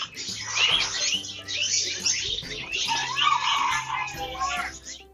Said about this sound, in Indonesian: Ini burung falk atau parkit Australia ya teman-teman.